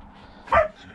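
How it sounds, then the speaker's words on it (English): A single short dog bark sounds nearby, brief and sharp, with quiet background before and after. "Excuse the dogs in the background, they're arguing over a bone."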